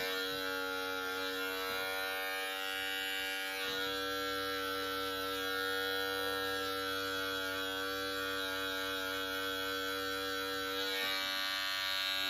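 Electric hair clippers hum steadily and continuously while trimming a beard, a close, even buzz that holds for the whole stretch with slight shifts in tone as the lever is adjusted.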